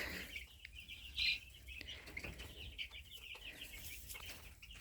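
Faint, busy chirping and soft clucking from a group of chicks, turkey poults and hens, high peeps overlapping continuously with a low background hum.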